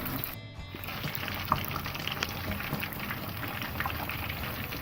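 Fish frying in hot oil in a pan gives a steady, close sizzle and bubbling crackle, continuous throughout with no talking over it.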